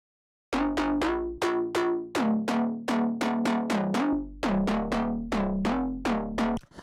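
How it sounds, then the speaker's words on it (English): A run of metallic, twangy FM synth plucks layered as a future house bass, with a deep bass note, struck in a quick rhythmic pattern, each note decaying fast, loud and close with no talking. "So the pluck sound on its own sounds like this."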